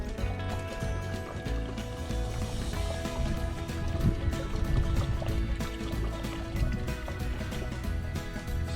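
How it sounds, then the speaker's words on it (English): Stream water pouring into a 1 liter water bottle outdoors, a continuous gurgling, splashing fill heard close up and fairly steady for several seconds. "I'm just going to fill it up."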